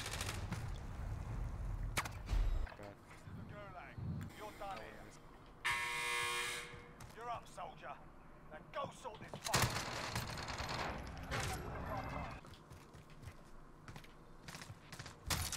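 Gunfire in Call of Duty Warzone (Cold War era), rapid automatic bursts crackling in short volleys around loud players talking over each other, with one long sustained burst and several sharp isolated shots.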